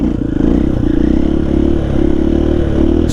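A KTM XR80 dirt bike engine revs hard and close, a loud, buzzing, rattly drone that holds steady with small surges, as the rider works it up for wheelies.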